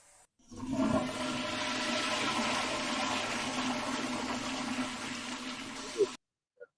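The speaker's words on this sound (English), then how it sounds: "The only thing Gene's going to be fighting is the fucking current of the flush." A toilet flushes with a sudden rush of water that roars steadily for about five seconds, then cuts off with a brief gurgle, loud and close.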